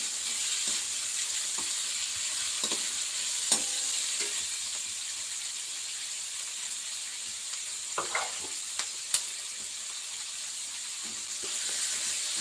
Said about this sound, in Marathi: छानपणे भाजून घ्यायचं कांदा